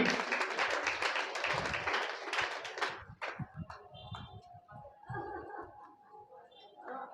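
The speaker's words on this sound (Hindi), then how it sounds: "ताली बजा के स्वागत करें सभी।" An audience claps to welcome a prize winner at a Ramcharitmanas recitation gathering. Dense, loud applause fills the first three seconds, then fades into scattered claps as someone speaks.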